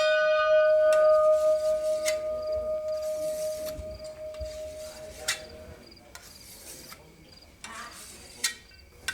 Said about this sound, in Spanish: A las 6 de la mañana ya tocan la campana para levantarse